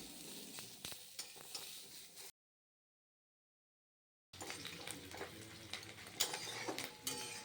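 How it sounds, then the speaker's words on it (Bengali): A handful of peanuts frying in a little oil, stirred in the pan: soft crackling sizzle with clicking spoon scrapes, cut by about two seconds of silence midway before the frying and stirring resume. "বাদামটা ভেজে নিচ্ছি অল্প তেল দিয়ে।"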